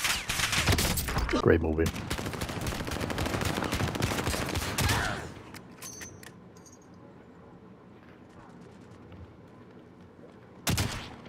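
Heavy gunfire in a Rainbow Six match, dense loud automatic shots for about five seconds, then quieter scattered sounds and a final burst, with brief talk.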